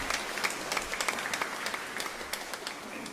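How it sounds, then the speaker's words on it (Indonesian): Applause from a church congregation during a vocations Sunday Mass with friars and sisters, a steady patter of many hands with sharper individual claps poking through, moderately loud and close, with no talk over it. "Tepuk tangan untuk mereka semua."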